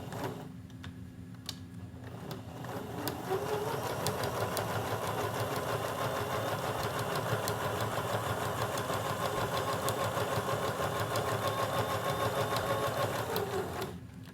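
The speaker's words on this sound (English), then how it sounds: "we're going to stitch right back over those same stitches where we just finished" A sewing machine hums in a long continuous run, back-stitching over a seam on a hot pad pouch, starting after a short pause and staying steady and fairly loud to the end.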